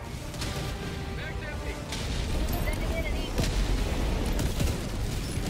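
Strafing run in Helldivers 2 against bots, a dense continuous roar of gunfire and booming impacts that swells louder midway, with voices talking over it.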